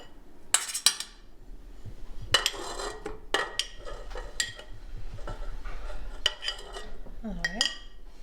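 Shortening, butter and sugar are worked together in a mixing bowl for Italian Easter cookies, with loud clinks of a utensil against the bowl and softer scraping and stirring between them.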